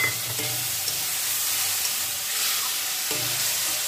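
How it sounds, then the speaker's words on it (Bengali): Masala spices sizzle and fry in a pan while being stirred, a steady loud hiss with a few scraping strokes of the spoon near the start and end. "মশলাটাকে ভালো করে একটু কষিয়ে নিই"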